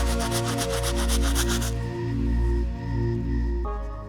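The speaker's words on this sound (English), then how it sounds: "move on to the soles, and for that, we of course will be using our stiff bristle brush" Stiff bristle brush scrubbing the soles of trashed Jordan 3 Fragment sneakers, close rhythmic rubbing strokes that give way to a steadier, softer scrubbing sound.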